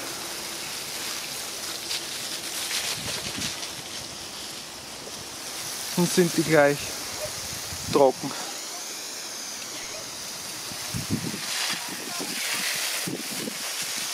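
A garden watering hose sprays water over plants to save them from drought, giving a steady broadband hiss throughout while people talk over it.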